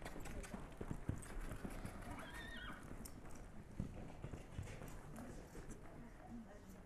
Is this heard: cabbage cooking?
no